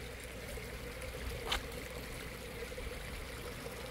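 A small backyard waterfall pours into a fish pond, giving a faint, steady trickling rush with one brief louder splash partway through.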